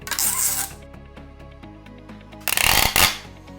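Two bursts of loud ripping and rasping as packing tape is pulled from an H-150 tape dispenser, with quieter rustling between them.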